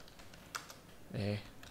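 Brief typing on a computer keyboard during a stock market analysis session, a few soft scattered key taps followed by a short louder burst, with no voice over it.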